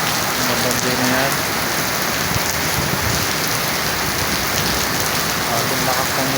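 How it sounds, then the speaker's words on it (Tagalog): Heavy typhoon rain from Crising pours down in Alabang South Park, a dense, constant, loud roar of drops drumming on surfaces close by. "Grabe lakas ng ulan."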